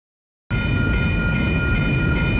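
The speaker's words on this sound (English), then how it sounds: "talking about the train that crosses through her street daily" After half a second of silence, a train crossing a residential street in Eugene roars in abruptly and stays close and very loud. It holds a continuous heavy rumble and clatter with a steady ringing tone on top.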